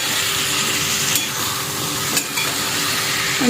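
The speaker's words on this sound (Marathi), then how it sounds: "सगळ्या भाज्या घातलेल्या आहेत आता ह्या मस्त परतून घेऊया" Mixed vegetables for bhogi bhaji stir-frying in a pan, a continuous close sizzle with occasional light scrapes of a spoon, no voices.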